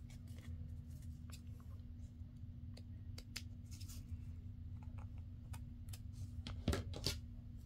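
Fabric is snipped off with scissors while sewing a small tucked pocket with lace: faint, soft cutting clicks and rustles over a low steady background hum.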